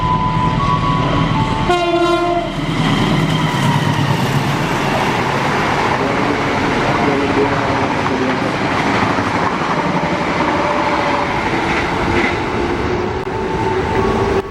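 The Madiun Jaya 143 passenger train passes close by, hauled by the red-blue locomotive 201-8346JR: a brief horn blast near the start, then a long, loud, continuous rumble of passing carriages with rhythmic wheel clatter.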